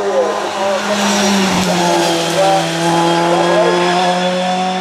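Mercedes race car at a hill climb on the Vernet Chaméane course, a loud, close engine drone with rising and falling harmonic pitch as revs shift, a dip midway, and a voice talking over it.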